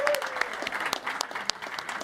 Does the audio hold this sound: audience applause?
yes